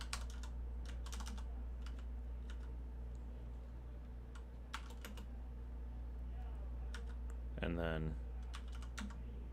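Quick bursts of close computer keyboard typing enter terminal commands, with clicky keystrokes and pauses in between, and a person speaks briefly near the end.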